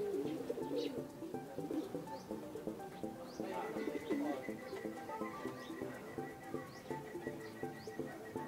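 Racing pigeons arriving at their loft coo softly and repeatedly, with scattered higher chirps over a low murmuring background, moderately close.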